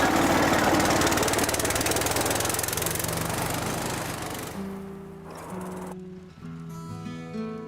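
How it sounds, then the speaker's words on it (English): A little red tractor's engine runs loud and close, a rough, knocking mechanical chug that fades as music rises and takes over. "The little red tractor's out."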